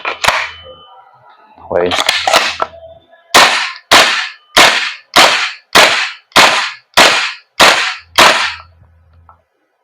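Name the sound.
Knights Armament SR-16 airsoft gas blowback rifle firing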